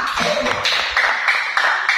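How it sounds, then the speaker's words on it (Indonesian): Classroom students in Indonesia clap briefly for a presenting group, a short burst of several hands with distinct claps standing out near the end. "tepuk tangan untuk kelompok A"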